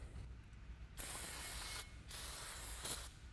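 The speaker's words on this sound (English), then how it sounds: "we're going to take a little bit of brake cleaner spray the surfaces" Two bursts of brake cleaner aerosol spray hissing onto a Ford Mustang brake rotor, each lasting about a second with a short pause between, close and fairly quiet.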